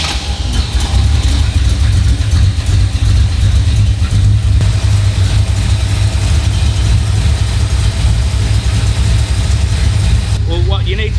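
A Cobra replica's engine idles off choke, a loud, steady low rumble running throughout with little change in revs, while a voice talks over it and a brief higher chirp sounds near the end.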